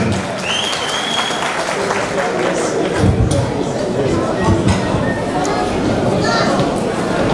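Crowd applause at an evening gathering of the KAI Platform welcoming Sultanbeyli mayor Hüseyin Keskin to the podium, steady and full for the whole stretch, with voices and chatter mixed into the clapping.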